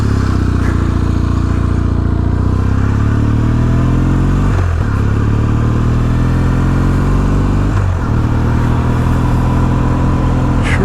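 A Kawasaki W650 motorcycle engine runs loud and close, its steady thrum rising through gears with brief dips at each shift while riding, no voices over it.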